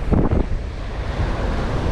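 Ocean waves breaking on a Florida Atlantic beach with bright blue water, a steady broad surf roar mixed with wind buffeting the microphone, close and loud throughout.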